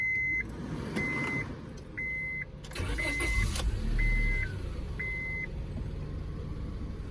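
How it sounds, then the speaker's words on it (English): An older Honda Civic that overheats is started with a key; a steady chime pulses at regular intervals while the starter cranks briefly and the engine catches and runs at a low idle. "Let me get the key and start it one last time."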